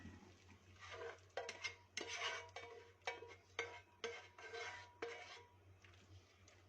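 Zucchini and tomato sauce being emptied into a tagine pot: repeated close clatters and scrapes of a utensil against the pot, with a wet slosh and a steady low hum underneath.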